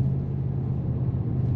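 Mercedes-AMG GT63 S engine in Sport Plus mode, a deep steady rumble heard from inside the cabin, constant and close with no voices.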